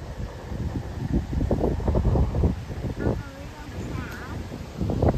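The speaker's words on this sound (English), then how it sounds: "It's a windy day today" Gusty wind buffets the microphone beside the Rideau Canal locks, a steady roar with rising and falling rumbles throughout, and low voices faintly under it.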